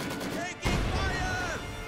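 Gunfire and explosions crash in the Company of Heroes 2 battle game, a heavy boom followed by sustained rumbling fire, with a voice calling out over the combat.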